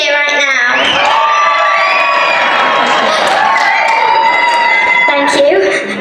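A large crowd at a red carpet film premiere cheers and whoops loudly and continuously, with high excited shouts and some clapping blending into one sustained roar.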